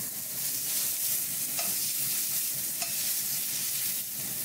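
A thick filet mignon steak frying in a pan over lowered heat, a continuous soft sizzle with a couple of faint clinks, close-up and quiet, no voices.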